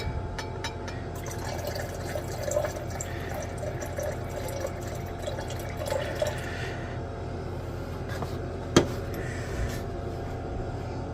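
About 100 ml of nitric acid is poured during gold recovery work, a faint steady trickling fill with a few drips and one sharp clink, no voices.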